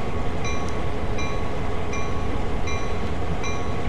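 A GP-38-2 diesel locomotive running light into a head shunt in Train Sim World gives a steady, loud engine drone with a faint repeating rail click roughly every three-quarters of a second, with no talk over it.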